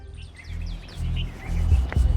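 Pigeons chirp and coo close by in a short burst, with soft rustling and low rumbling underneath.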